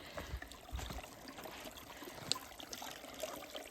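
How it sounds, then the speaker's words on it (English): A small piped spring at a trail shelter on the Appalachian Trail runs with a steady, soft trickle of water, faint and continuous, with no voices. "There's a little piped spring here,"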